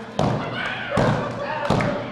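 In a Dynamic Championship Wrestling match, a big wrestler drops onto the ring mat, and three heavy thuds land about three quarters of a second apart. Close and loud, with a voice talking over them.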